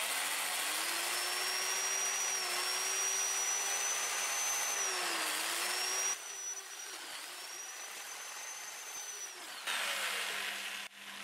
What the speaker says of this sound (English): I'm going to sand it in reverse. About 400 RPMs,